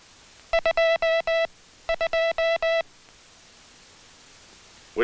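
Morse code tapped on a properly adjusted telegraph key sounds as a clean, steady tone in crisp dots and dashes, two evenly spaced groups of beeps over faint background hiss.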